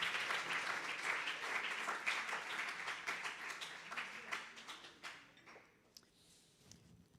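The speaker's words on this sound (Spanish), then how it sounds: "Hermano, déle ese aplauso al Señor, aleluya" A church congregation breaks into sustained applause at a sermon, a dense wash of clapping that thins out into scattered claps and fades near the end, heard from a moderate distance.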